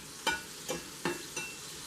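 Onions cooking in a pan for homemade burgers, four separate scraping stir strokes roughly every third of a second over a faint low sizzle, fairly close, with no talking.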